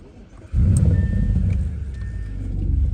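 A 2015 Audi S8 D4.5 engine cold starts with the door open: a starter whir, then a sudden loud catch into a strong, rumbling high idle that settles slightly and stays close and steady.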